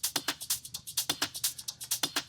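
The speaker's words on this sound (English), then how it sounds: "I most of the time go and check for the hi-hats." A looped hi-hat pattern cut from a sample library plays alone, with crisp, bright ticks in a steady, evenly spaced rhythm of short metallic hits and slightly accented open strokes.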